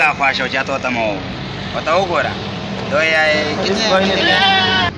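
A five-month-old male goat bleats repeatedly in wavering calls, close and fairly loud, among other animals being loaded for cargo transport to Nowshera, with someone speaking nearby.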